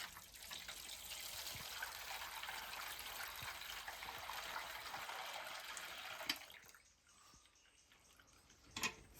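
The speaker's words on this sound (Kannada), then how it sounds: "ಇವಾಗ ಡಿಶ್ಶಿಗೆ ಹುಯ್ಬೇಕು ನಾವು." Mixed rubber latex is poured into a dish while making a rubber sheet, a steady watery pouring and trickling for about six seconds that then stops, leaving quiet with a couple of small knocks.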